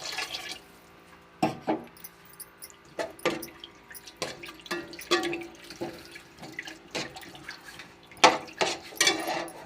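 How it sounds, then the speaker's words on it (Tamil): Water splashing and sloshing into a cooking pot in short bursts, with drips and clatters from a vessel, close by; no talking. "ஒரு சொம்பு தண்ணி ஊற்றிருக்கேன்"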